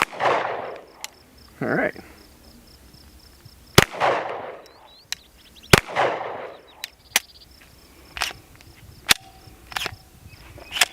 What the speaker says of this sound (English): I'm gonna shoot this one-handed just in case for the first one. Actually, I'll go for the steel.